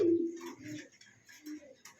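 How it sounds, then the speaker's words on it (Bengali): A pair of pigeons at a pigeon sale coo softly nearby in a few short, low throaty calls, with faint rustling in between. "খুবই সুন্দর একজোড়া কাল দম কবুতর"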